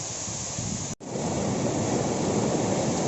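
River water near Aizawl, Mizoram rushes in a loud, continuous wash by a jungle waterfall, blended with wind buffeting the microphone and one brief dropout.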